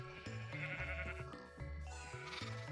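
Sheep bleat repeatedly in a Minecraft game, with several short, nasal, wavering calls close together over a soft background.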